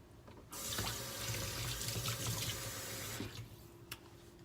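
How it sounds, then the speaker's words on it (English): A spoon rinsed under a running kitchen tap after tasting peanut dipping sauce, a steady broadband rush of water starting abruptly and stopping after about three seconds, followed by a faint clink. "rinse off my spoon"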